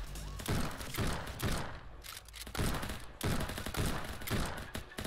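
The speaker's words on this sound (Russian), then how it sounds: "Они стреляют во все стороны." Rapid bursts of gunfire crackle through a toy-soldier battle video game, loud volleys coming in clustered clumps with short breaks between them, like a firefight heard up close.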